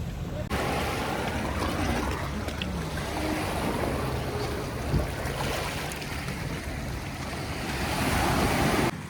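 Sea waves wash steadily at Khorfakkan beach, a broad continuous surf roar mixed with gusty wind buffeting the microphone, and a boat service close by.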